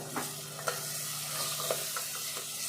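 Goat trotter pieces sizzle and fry in oil in a pan, a steady close crackle with occasional stirring knocks and scrapes throughout, no voices.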